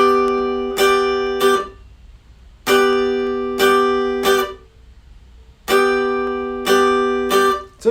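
Hammered dulcimer playing the beginner tune The Boatman, struck chords ringing in three groups of bright plucked-sounding strikes with an uneven, shifted rhythm, clear and close with no voices.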